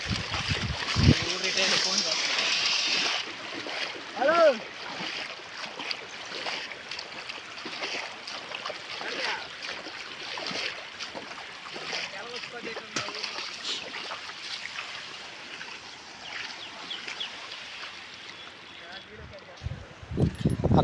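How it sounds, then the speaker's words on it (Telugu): Fast floodwater rushes across a road and over flooded fields, a steady broad roar of flowing water with splashing, heard close by under someone talking throughout. "నీళ్ళు చూడండి ఎలా పోతున్నాయో"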